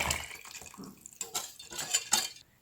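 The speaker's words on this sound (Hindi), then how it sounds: "अब ये जो हमारा वेट बैटर है सारा," Wet cupcake batter poured and scraped into a bowl of dry ingredients, soft close clinks of a utensil against the bowl and a brief wet splatter, no talking.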